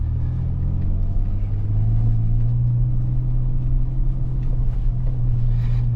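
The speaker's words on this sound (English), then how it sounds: "You can hear a little bit of that rear diff." Steady low drone of a 2024 Ford Ranger Raptor driving off-road, with the rear differential's hum woven into a constant engine and road rumble, even and continuous throughout.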